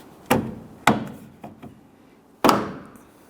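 A new exterior door handle is pushed into place on a Toyota Tundra door, giving several sharp plastic-and-metal knocks and clunks, three strong ones with softer taps between, close and otherwise quiet.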